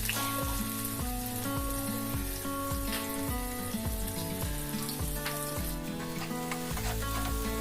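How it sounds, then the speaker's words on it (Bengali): Onions fry in hot oil for a beef curry, a continuous bright sizzle running throughout beneath loud background music. "পেঁয়াজটা বাদামি বাদামি করে ভেজে নিতে হবে।"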